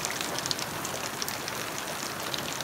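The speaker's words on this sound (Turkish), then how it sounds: "Yağmur var. Bu hafta full yağmur yağacak." Steady, dense hiss of rain falling, constant and fairly loud with faint scattered drips, no voices.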